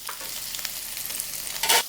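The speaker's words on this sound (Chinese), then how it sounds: "我们的芦笋跟玉米笋煎的表面有点上色" Blanched asparagus and baby corn pan-fry with a steady close sizzle and light stirring scrapes, swelling into a louder burst of hissing near the end.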